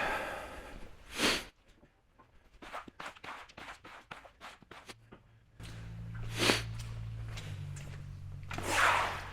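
Several short, wet nasal sniffs at close range, spaced irregularly, with a faint hum and light background noise underneath during hot water pressure washing of concrete.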